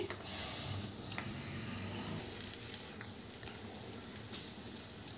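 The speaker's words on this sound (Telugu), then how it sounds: "ఇది కొంచెం ఫ్రై కావాలి." Cauliflower frying in oil for a kheema cauliflower peas masala curry, a soft steady sizzle with faint stirring clicks and scrapes, quiet and continuous.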